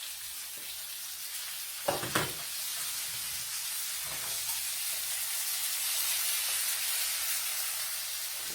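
Onions fry in a pan with liver, giving a steady soft sizzle and hiss, with a couple of brief louder crackles and scrapes as they are added and moved.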